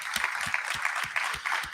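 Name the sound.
audience applause at summit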